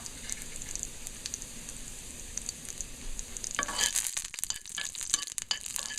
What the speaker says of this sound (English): So you gotta fry and get all nice and brown.